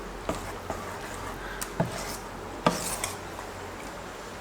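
Fermented rice batter for vattayappam being stirred in a bowl, with soft wet rubbing and a few sharp taps of a spoon against the vessel, close by and fairly quiet.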